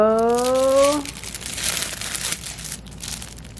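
A crinkly baby toy is scrunched and crumpled in bursts of crackling rustle over a few seconds, after a woman's brief sing-song voice at the start.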